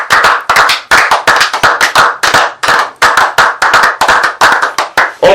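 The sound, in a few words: congregation clapping to acclaim the Lord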